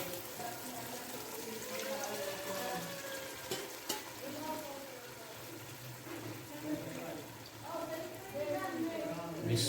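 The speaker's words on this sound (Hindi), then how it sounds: "अभी इसमें पानी डालेंगे।" Water poured into a pot of frying chickpea pulao, a steady splashing and sizzling wash with stirring under a person talking throughout.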